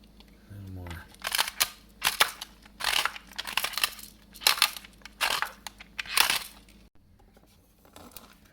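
A pepper grinder cracks black pepper over a kale salad in about seven short, crunchy grinding bursts with brief pauses between them, close and fairly quiet.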